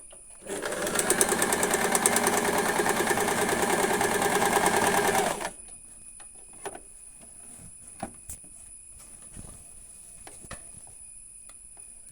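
An Usha Janome sewing machine stitching a design runs in a steady fast whir for about five seconds, then stops, leaving a quiet room with scattered light clicks and handling sounds.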